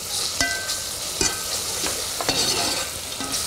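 Tomato paste sauce being stirred in a cooking pot for a spinach and peanut butter chicken stew, with a steady sizzle and several scraping spoon strokes at irregular intervals, close and moderately loud.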